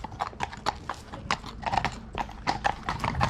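Horses being driven and ridden together clip-clop with quick, irregular hoof strikes on a hard surface, close and distinct, a brief whinny mixed in among the steps.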